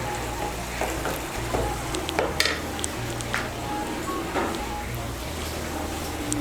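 Bottle gourd greens fry in a pan over raised heat, a steady close sizzle broken by scraping stirs and light clinks of a utensil against the pan.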